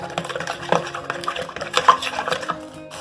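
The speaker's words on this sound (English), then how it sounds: "you're going to stir your eggs and your oil together, breaking up your eggs" Eggs and oil being stirred together in a bowl for a cake batter, with a brisk run of close utensil clinks and scraping strokes against the bowl.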